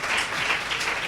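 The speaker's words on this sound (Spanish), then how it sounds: "Denle un aplauso al Señor" Church congregation applauding the Lord during a Spanish-language service: dense, sustained clapping from many hands filling the room, steady and fairly loud throughout.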